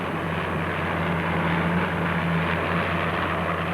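Helicopter engine and rotor drone above two leading offshore racing powerboats in the 1968 Daily Express offshore race off Cowes, a steady broad roar with a low hum, continuous and fairly loud throughout, no voices.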